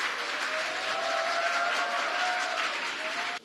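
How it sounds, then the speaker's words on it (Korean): Audience applause at a university graduation ceremony, broad and steady for a few seconds, with a faint high tone running through it before stopping abruptly. "여러분 큰 박수로 환영해 주시기 바랍니다."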